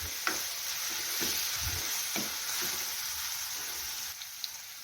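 Onion and garlic fry in a pan with coarsely ground coriander powder, giving a steady close sizzle with a few stirring scrapes and clicks throughout and no talking.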